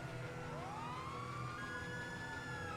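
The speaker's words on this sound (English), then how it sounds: "Police car." A police car siren in the video game Grand Theft Auto 5 rises and holds in a wailing tone at moderate distance, over a steady hum of traffic and engines.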